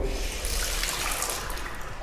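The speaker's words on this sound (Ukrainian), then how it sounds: "от включаю воду" Water gushes steadily from a turned-on tap, a continuous broadband rush that stays fairly even throughout the brief stretch, heard alone without talking.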